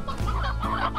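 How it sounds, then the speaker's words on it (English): A chicken clucks in the video game Slime Rancher, a run of close, loud, throaty clucks repeating steadily for about a second with no talk over them. "Where'd the chicken go?"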